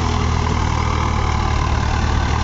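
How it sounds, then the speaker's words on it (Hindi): A New Holland 3630 4WD tractor pulls a 32-disc harrow through a field. Its diesel engine gives a steady, loud, low drone that holds even throughout, with no voices. "ट्रैक्टर स्लिप मार रहा है जी हल्के हल्के"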